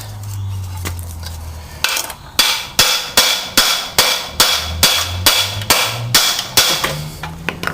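A hammer strikes a Briggs & Stratton lawn mower crankshaft about a dozen times in a steady rhythm, each blow a sharp, loud metallic bang with brief ring, preceded by a short hum and a few quieter knocks.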